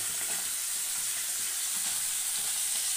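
Spices with chopped ginger, garlic and onion hitting hot oil in a pan: a dense, continuous hiss of frying holds steady and close throughout, with no talk.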